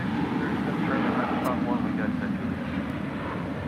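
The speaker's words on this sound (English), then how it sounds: "This Embraer Phenom 300 is coming in from Vancouver" Embraer Phenom 300 business jet landing at LAX, a steady broad roar of jet engine noise held at even loudness throughout, with faint talk over it.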